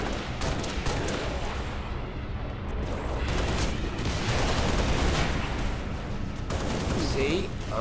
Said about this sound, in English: And then June, you shoot those jackals.